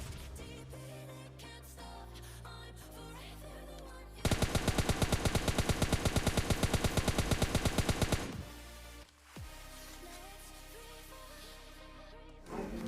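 Rapid M4 rifle fire in the mobile battle royale game PUBG Mobile Lite: a loud, sustained automatic burst of about four seconds over game music and effects, with no talk.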